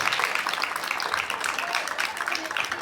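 An audience claps for a student at a school merit award ceremony in Raipur, dense sustained applause from many hands at moderate distance, with faint speech mixed in.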